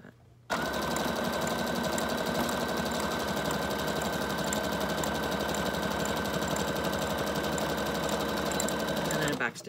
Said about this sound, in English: I'm doing a zigzag stitch, the back stitch at the beginning, just to secure it